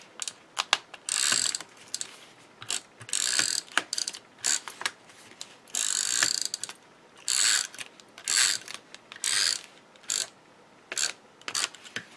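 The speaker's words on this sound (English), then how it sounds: "I'm using a tape runner from Therm O Web. That is a permanent tape runner" A Therm O Web permanent tape runner lays adhesive onto card stock in repeated short, rasping zips, each a second or so long and separated by brief pauses, close and fairly loud with no voices.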